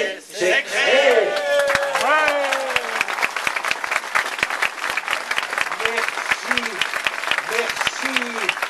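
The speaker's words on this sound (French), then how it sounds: "Merci de nous applaudir." A large crowd claps and cheers in sustained applause at a cultural forum in Thorens-Glières, with some shouting and voices over the dense, steady clapping.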